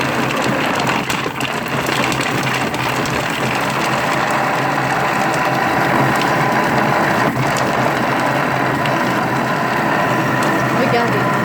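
A Thermomix TM6 churns frozen fruit into sorbet at speed 5, giving a loud, continuous grinding whir with gritty rattling from the hard frozen pieces, steady throughout.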